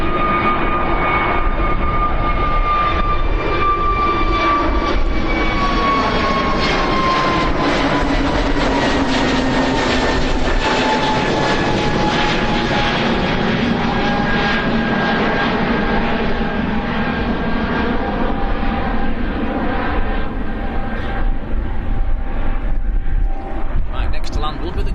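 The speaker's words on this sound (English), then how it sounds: "EasyJet on the roll. This is the Easy Swiss to Geneva." An EasyJet airliner to Geneva rolls down the runway for takeoff with a loud, sustained jet-engine roar and a slowly falling whine, heard outdoors at an airport with a commentator talking over it.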